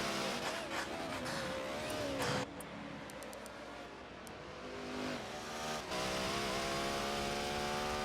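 Race cars in the LMP2 and IMS classes at Road America roar past during a six-hour endurance race, engines rising and falling in pitch with a tire squeal, loud and steady throughout.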